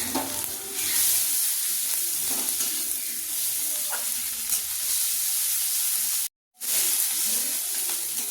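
Onion with ginger and garlic paste fries in a pan, a continuous loud sizzle and hiss with occasional stirring scrapes, close up, cut by a brief dropout near the end.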